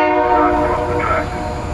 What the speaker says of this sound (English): A train is approaching the crossing.